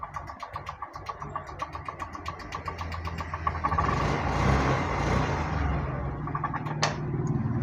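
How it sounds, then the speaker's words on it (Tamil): A Honda BS6 motorcycle with a low-pickup fault is restarted and settles into an uneven idle, a close engine rumble that swells after a few seconds, with faint ticking throughout and no talk. "மறுபடியும் ஸ்டார்ட் பண்ணுறேன்."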